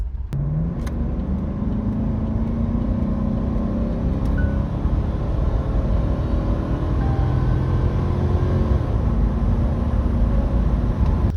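A Mercedes-Benz W126 sedan drives along with a smooth, steady low engine rumble and road noise, constant and fairly close throughout with no voices.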